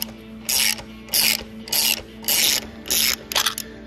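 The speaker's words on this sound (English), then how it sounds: "And then we tighten it up and then crank the wear ring off." A hand tool ratchets in short, steady bursts while tightening down and cranking a wear ring off a sleeve, about six crisp clicking runs, close and loud over a low hum.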